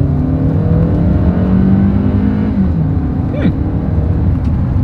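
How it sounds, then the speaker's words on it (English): A 2020 Hyundai Santa Fe with a 2.4-liter naturally aspirated four-cylinder accelerating from inside the cabin: a loud, steady engine drone rising in pitch, then briefly dropping around a gear change before climbing again. "let's go ahead and do a quick little acceleration test here in the Santa Fe"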